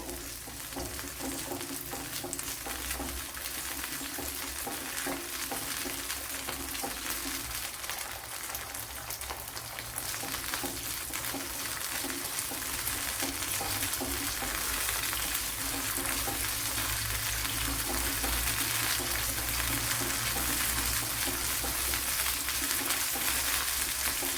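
Small onions, about fifteen shallots, fry in hot oil for a chili chammanthi, giving a steady rain-like crackling sizzle that grows slightly louder and brighter over time, with no talk.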